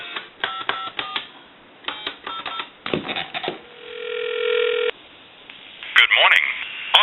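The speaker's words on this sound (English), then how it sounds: "Give you some dial tone." A steady telephone dial tone hums for a couple of seconds between bursts of dialing beeps and clicking line sounds.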